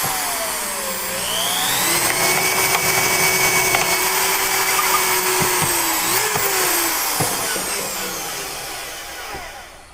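A case trimmer cuts 30-06 brass cases down to length, giving a steady whirring, grinding machine whine with shifting pitch that runs close and continuous for most of the span before tapering off at the end.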